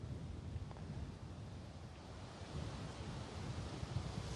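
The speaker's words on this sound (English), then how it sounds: "we got a little bit more wind than I figured" Gusting wind outdoors buffets the microphone with a steady, low rushing roar that swells and eases over a few seconds, faint and uninterrupted.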